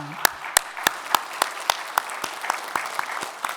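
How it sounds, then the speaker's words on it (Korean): A church congregation at a Sunday worship service claps in a steady, rhythmic unison beat, a dozen sharp claps about a third of a second apart over a soft wash of scattered applause, with no talking. "그 영광의 박수를 하나님 앞에 올려드리겠습니다"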